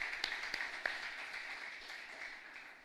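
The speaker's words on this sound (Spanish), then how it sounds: "Y un fuerte aplauso para todos ustedes." Applause from a congregation at the end of a live Mass in a chapel, a faint, steady patter of many hands clapping at a distance for a few seconds.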